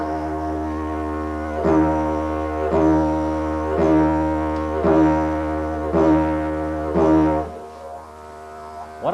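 Didgeridoo drone with tongue pulls off the roof of the mouth imitating a kangaroo hopping, giving five evenly spaced bouncy accents over a steady low buzzing tone, close and alone.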